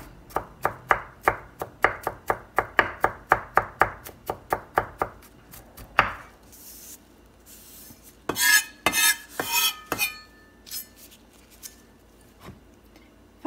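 A knife chops food finely on a board for steamed spareribs: a steady run of about fifteen close, sharp knocks, then a pause and a few scattered clatters and scrapes toward the end.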